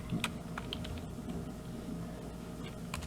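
Keys tapped on a computer keyboard in a few short, light bursts, close by and soft over a low steady room hum.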